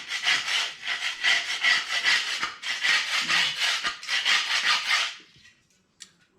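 A tool scraping old residue out of a Holden HT Monaro window regulator, rapid rhythmic back-and-forth rasping strokes, loud and close, then stopping with a single faint knock afterward.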